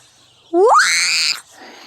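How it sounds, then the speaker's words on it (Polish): Scream outdoors in a garden near a swing, a single loud voice rising sharply in pitch and then held for nearly a second before cutting off, alone, with a faint noise trailing after. "Sorry za ten krzyk"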